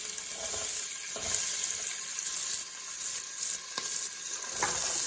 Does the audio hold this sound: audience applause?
no